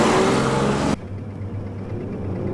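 A 1995 Honda Accord's engine revs hard and loud while accelerating to pass, a roaring mid-pitched drone that cuts off abruptly after about a second and drops to a steadier, quieter running hum.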